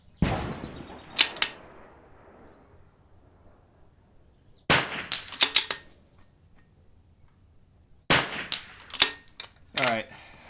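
Sharp .22 rifle reports at an outdoor NRL22 precision match, arriving in three separate clusters of quick cracks with steel-target clangs, each followed by quiet gaps.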